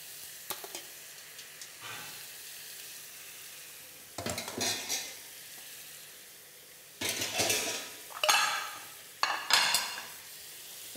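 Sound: stirring food in a pan

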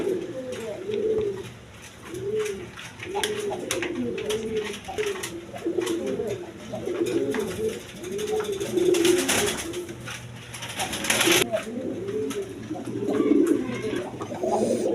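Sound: Rajgolla pigeons cooing

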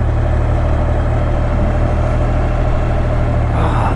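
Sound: Honda XR650L dual sport motorcycle engine idling

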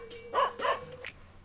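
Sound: dog barking

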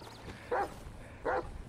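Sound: police dog Rottweiler barking in video game GTA 5

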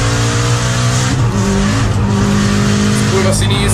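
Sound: racing cars skidding around a curve, Micro Machines video game

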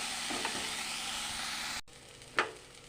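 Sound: frying boiled banana flower in a pan

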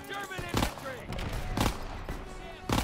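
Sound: SMG gunfire in the video game Call of Duty: WWII

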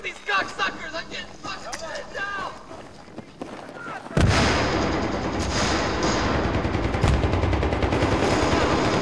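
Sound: grenade explosions and gunfire in Battlefield 3 video game

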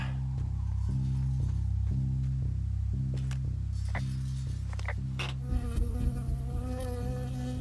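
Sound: bee buzzing in the video game Firewatch

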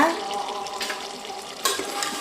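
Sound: food cooking in a pan

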